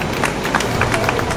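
A crowd at a Walk Against Bullying event gives a brief round of applause for the St. Michael Parish Ambassadors, a quick burst of rapid, dense clapping at moderate distance.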